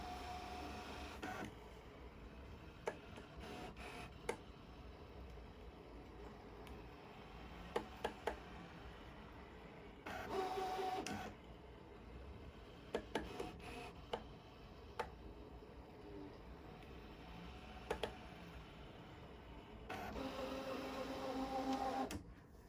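Pen plotter machine drawing sewing lines onto fabric, a quiet continuous mechanical whir with ticking clicks and short louder motor bursts around 10 and 20 seconds, close and faint.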